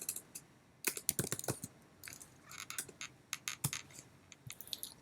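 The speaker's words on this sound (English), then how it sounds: "Here I'm typing demo project" Keys clatter on a computer keyboard during a Git and GitHub setup session, a quiet, uneven run of close clicks in short bursts with brief pauses and no talk.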